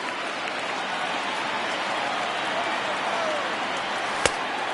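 Stadium crowd noise in a PS4 baseball game swells as the count runs full at 3-2, a steady broad roar with a rising cheer, heard throughout, plus one sharp click near the end.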